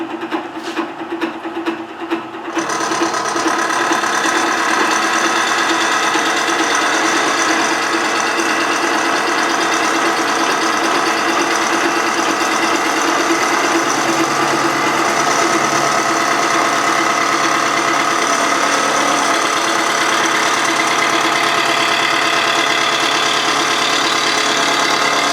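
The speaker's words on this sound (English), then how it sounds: "I'm still only taking light cuts, but it brought the noise down to a point where I can actually do something." A machine tool taking light cuts on metal frames makes a steady, loud mechanical whine and drone that runs continuously after a brief rattling start, with no talk.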